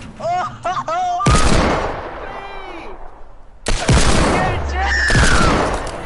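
Loud bursts of gunfire ring out in a shooter video game, rapid fusillades and heavy shots close up, while a voice shouts briefly between them.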